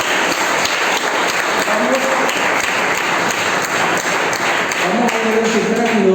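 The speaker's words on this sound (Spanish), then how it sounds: "Denle un aplauso al Señor allí" A church congregation claps together in a dense, steady burst of applause that fills the room, with a voice rising over the clapping toward the end.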